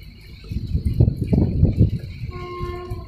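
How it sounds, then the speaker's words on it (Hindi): A train with an NMG goods rake led by a WDP4D diesel locomotive rumbles past in the rain, a loud low roar swelling and fading, with a steady horn-like tone entering near the end. "NMG rake train new modified for goods"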